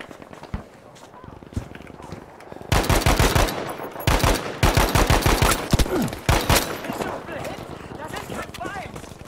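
Automatic M1A1 Carbine fire in Battlefield 5, heavy rapid bursts of shots cracking loudly in close succession, broken by short pauses, with voices talking around the shooting.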